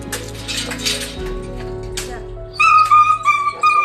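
A puppy caught on an awning whimpers and cries in high, wavering yelps, loud and close, with clinking and muffled background noise earlier.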